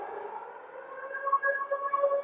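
An air raid siren sounds over the central streets of Odesa during an alert: a steady, sustained wailing tone of moderate loudness that swells slightly toward the end, with no voices over it.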